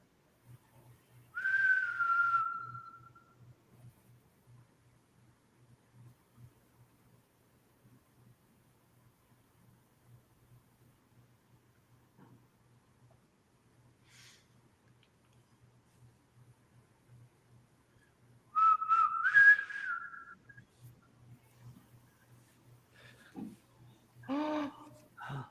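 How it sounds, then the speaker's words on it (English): Two separate bursts of human whistling in quiet Hartsuff Hall, an old college hall, each a short sliding tone, separated by a long stretch of near silence with a faint low hum beneath; a few soft knocks and rustles follow the second whistle. "I just heard whistling."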